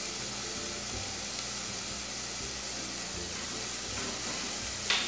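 Chopped garlic sizzles in a pan for strogonoff: a dense, steady frying hiss, close and continuous, with faint low scraping beneath.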